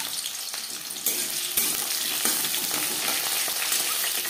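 Onions sizzling in hot refined oil seasoned with a bay leaf, a steady bright crackle with a few louder surges as pieces hit the pan, no voices.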